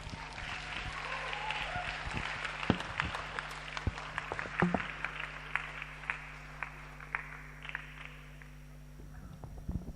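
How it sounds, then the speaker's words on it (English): An audience at a leadership summit applauds after a speech, scattered claps building into a fairly steady round, then thinning out and fading toward the end over a faint hum. "Another round of applause for her"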